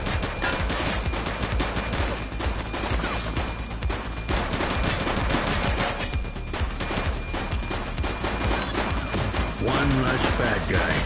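Sustained gunfire from a police shootout in the video game The Precinct, dense overlapping shots running the whole stretch with game music and voices mixed in.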